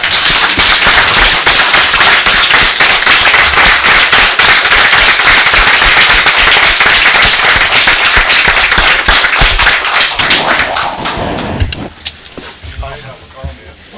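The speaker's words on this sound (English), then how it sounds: "I think we need to give him a round of applause" A loud, dense round of applause fills a city council meeting chamber, sharp claps packed tightly and sustained for about eleven seconds before thinning out as voices resume.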